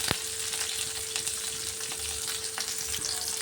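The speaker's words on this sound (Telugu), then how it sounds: "మిరపకాయని అటు ఇటుగా కలుపుకొని" Red chillies frying in oil in a pan while being stirred back and forth, a dense continuous sizzle close up with occasional soft scrapes of the spoon, no talking.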